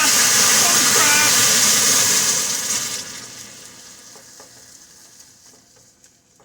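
Sugar caramelizing to the point of burning in a pan for salted caramel syrup hisses and sizzles loudly at first, then fades to a quieter bubbling crackle, up close.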